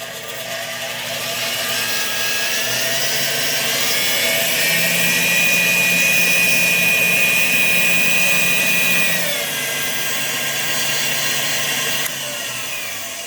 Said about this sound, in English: Nice quiet motor. You can slow this thing way down.